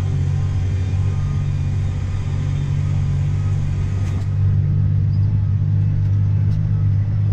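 A John Deere 8235R tractor engine rumbles steadily with a deep low drone that swells slightly as it speeds up, heard up close and continuous.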